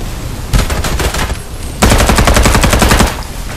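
Rapid automatic gunfire in the shooter game Farlight 84, two loud sustained bursts of fast, evenly spaced shots, close and dominant, with a brief lull between them and no talk.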